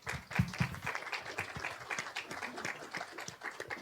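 Scattered audience applause at a panel on environmental conflicts in the Amazon, fairly quiet and uneven clapping with distinct individual claps, no speech.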